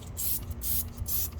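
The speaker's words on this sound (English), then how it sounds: "I'm gonna spray this on, let it dwell" Turtle Wax Hybrid Solutions Pro Rapid Decon iron remover is sprayed from a foaming-nozzle trigger bottle: three quick hissing bursts in a steady rhythm, close and fairly loud, with no voices.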